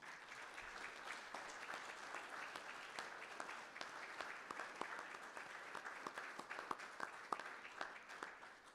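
Steady applause from a crowd at a city council meeting honoring newly promoted corporals, continuous clapping at moderate distance lasting several seconds, with individual sharp claps standing out toward the end.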